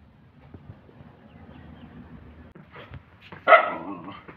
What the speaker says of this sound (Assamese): এই ভুকি থাকে